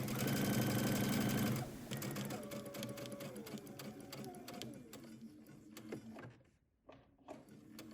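A domestic sewing machine stitches seams on a summer dress, running fast and loud at first, then slowing into a softer, uneven mechanical whir with clicks before stopping and restarting briefly.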